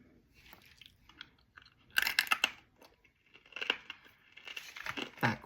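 Crunchy edible clay chalk is bitten and chewed up close, giving sharp brittle crunches in irregular clusters between quiet pauses, with no talk.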